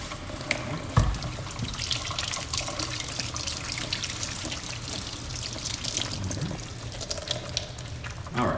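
Tap water runs steadily into a sink while hands are washed with soap, a continuous close splashing stream with small drips and hand movements.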